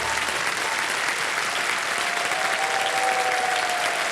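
A studio audience on a televised quiz game show bursts into loud, sustained applause, a dense wash of clapping that carries on for several seconds without a break.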